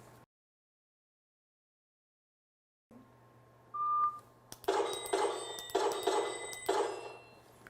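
A Laser Shot training system sounds a short electronic start buzzer on the Smoke and Hope stage, followed by several sharp, repeated clicks and beeps.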